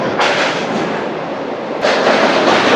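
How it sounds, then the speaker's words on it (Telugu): A memu passenger train rumbles across the Godavari road-cum-rail bridge at night, a loud, steady roar of wheels and carriage noise that swells louder after a brief dip, with no talk. "ఈ గోదావరి బ్రిడ్జ్ మీద ట్రైన్ జర్నీ అన్న, బస్ జర్నీ అన్న నెక్స్ట్ లెవెల్ అయితే ఉంటుంది"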